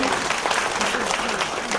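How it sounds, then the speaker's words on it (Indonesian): Audience at a Buddhist Dhamma talk clapping for a teacher's answer, a dense, continuous burst of applause throughout, with faint voices underneath. "tepuk tangan untuk jawaban dari Minggu Rinpoche"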